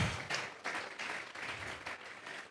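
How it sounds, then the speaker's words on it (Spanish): Church congregation clapping together during a sermon, a fairly faint, continuous patter of hands with loose rhythmic surges and no speech over it. "Vamos a regalarle ofrenda de palmas al Dios de la gloria."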